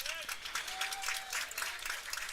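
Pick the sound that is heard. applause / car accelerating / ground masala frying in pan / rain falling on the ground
applause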